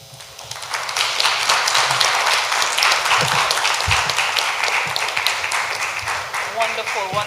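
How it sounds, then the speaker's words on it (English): An audience at a secondary school spelling bee gives steady, full applause that builds quickly and carries on for several seconds, filling the hall. "I didn't have to tell you clap because you knew what you were supposed to do."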